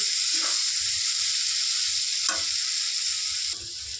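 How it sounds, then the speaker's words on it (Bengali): Pasta and egg frying in a pan, a continuous close hissing sizzle with a few brief scraping stirs, no speech. "এবার সবগুলোকে ভালো করে ভেজে নেব দেখো ডিমটা দিয়ে কিন্তু আমি ভালো করে ভেজে নিচ্ছি"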